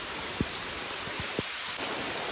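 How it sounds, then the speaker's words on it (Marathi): Steady rain falls outdoors on a fishing trip in Kokan, a soft continuous hiss with a few faint low drips or knocks scattered through it and no voices. "भरपूर पाऊस झाला आहे"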